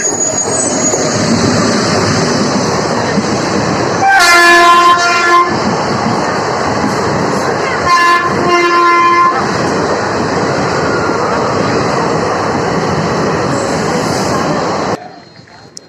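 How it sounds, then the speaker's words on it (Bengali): A train pulls in beside a station platform, its wheels rumbling loudly and steadily, with two long horn blasts partway through before the noise cuts off near the end; a voice speaks briefly. "ট্রেন আসছে, পাশে ট্রেন আসছে।"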